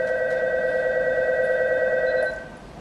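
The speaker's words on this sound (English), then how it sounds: "You would hear the phone ring" An office telephone rings with a sustained electronic tone, one long steady ring that holds for over two seconds before cutting off, clear and alone with no talk.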